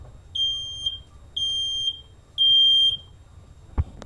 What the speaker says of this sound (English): making my smoke detector go off